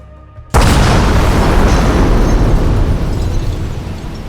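A reconstructed briefcase bomb detonates beside a table leg: after a brief quiet, a sudden, very loud close blast bursts out and rolls into a long, roaring rumble that slowly fades.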